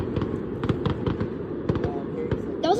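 Fireworks at a large display bursting in repeated sharp crackles and pops, some close by, over a steady background rumble of a crowd; a brief whistle near the end.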